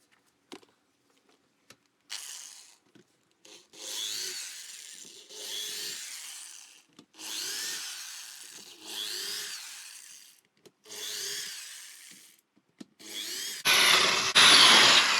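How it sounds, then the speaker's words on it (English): A power drill runs a drill bit in a series of separate bursts, each a few seconds long with short pauses between, ending with a harsher grinding burst, during an H22 engine swap on a Honda Accord. "I'm going to use a drill bit with the same size"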